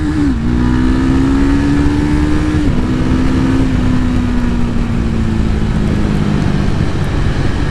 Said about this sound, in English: Let's rev it out.